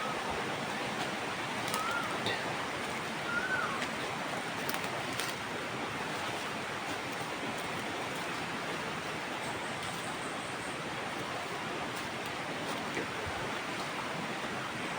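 A river flows in a steady, dense rush close by, with no pauses over the whole stretch and no voices over it.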